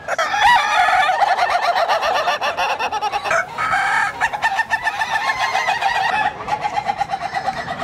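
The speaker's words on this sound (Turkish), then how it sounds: "Kahkaha atan horoz yarışması yapılalı 5 yıl oldu." Loud, close crowing from roosters at a Turkish laughing-rooster contest, with long strained calls overlapping and repeating in quick succession, joined by clucking fowl.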